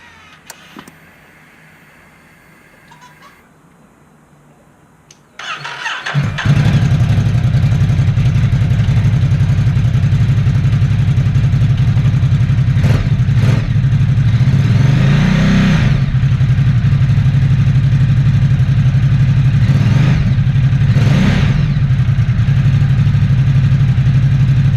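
A Ducati Supersport S motorcycle fires up after a quiet pause, then settles into a loud, close, steady idle broken by a couple of short throttle blips.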